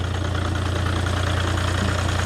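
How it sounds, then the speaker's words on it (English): A Volvo S60 D5 diesel engine idles steadily just after an oil cooler replacement, a continuous low rumble with an even mechanical clatter, close and alone for the whole stretch. "I have started the engine."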